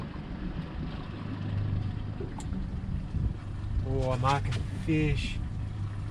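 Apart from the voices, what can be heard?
boat motor running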